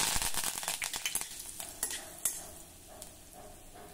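A handful of curry leaves hits hot tempering oil with cumin, mustard seed and asafoetida, gas switched off; sharp crackling bursts up close at first, then thinning to faint, scattered sizzles.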